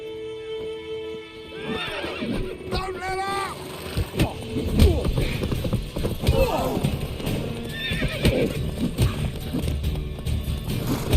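Horses whinny and neigh repeatedly amid clip-clopping hooves and scuffling, with voices shouting over the commotion, in The Witcher 3: Wild Hunt.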